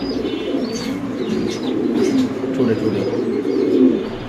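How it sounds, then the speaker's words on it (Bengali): Pigeons coo steadily at a pigeon market where white male birds are on sale, a dense, close murmur of overlapping low coos with occasional chirps and faint background voices. "এখানে আছে একটা হোয়াইট লক্ষা কবুতর নর কবুতর"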